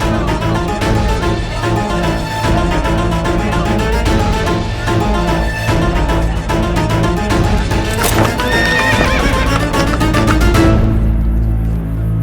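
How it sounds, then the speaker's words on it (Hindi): A horse pulling a carriage whinnies loudly amid a thick, busy mix of hoofbeats, music and street noise, with a sharp neigh rising near the middle and the dense sound running continuously throughout. "ऐसी घोड़ा गाड़ी।"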